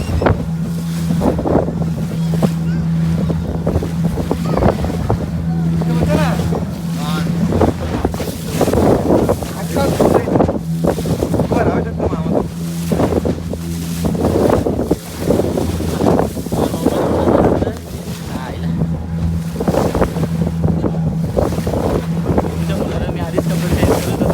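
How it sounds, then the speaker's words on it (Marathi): A boat's engine drones steadily and loudly at sea off Tarkarli during a scuba diving outing, with gusty wind buffeting the microphone throughout. "बोट आला"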